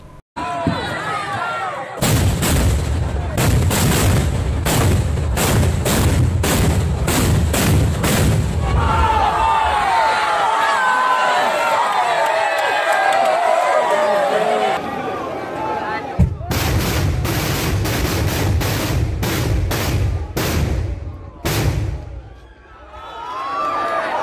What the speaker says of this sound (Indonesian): perang meriam dan bukan perang sungguhan yang hanya mengeluarkan suara letusan